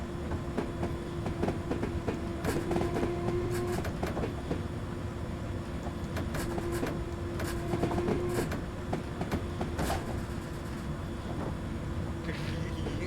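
A London Underground District Line train in Train Simulator 2019 rolls along with steady rail rumble, rhythmic wheel clicks over joints and a sustained motor tone, someone talking over it.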